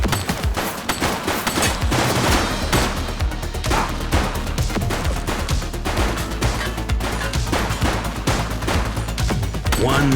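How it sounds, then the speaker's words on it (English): Rapid bursts of gunfire ring out in the police video game The Precinct, loud overlapping shots and fusillades cracking in quick succession throughout, with a busy, dense battle texture. "Shots fired!"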